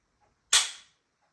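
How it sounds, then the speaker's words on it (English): A rifle trigger breaking during dry fire gives one sharp, crisp click, close and sudden, with a quick decay in an otherwise quiet space. "how much force does it take to pull the trigger before you hear the click."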